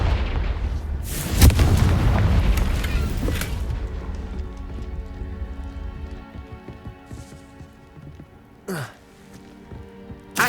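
Explosive blasts from the Confringo fire spell in Hogwarts Legacy: a loud boom near the start with a rumbling tail, a sharp crack around the middle and another burst later, over steady game ambience.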